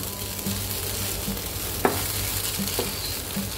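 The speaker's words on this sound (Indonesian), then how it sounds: "masak sampai kering supaya bisa tahan lama" Lalampa filling being stirred and fried dry in a pan, a steady close sizzle with a few light scraping knocks of the utensil against the pan, no voices.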